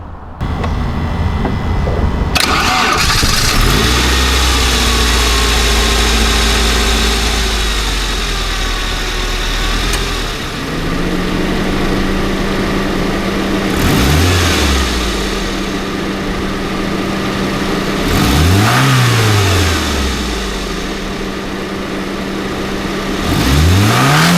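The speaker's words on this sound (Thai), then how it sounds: "มาฟังเสียงเครื่องยนต์กัน" Saab 900 Classic car engine idles loudly and steadily close by, then gets revved several times, each rev rising and falling in pitch before settling back to idle.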